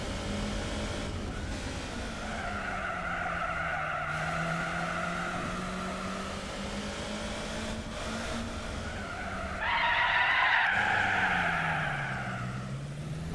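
In Gran Turismo 4 on a Monte Carlo course, a racing car's tyres skid and squeal in a long wavering whine over the engine drone, swelling louder and sharper near the end.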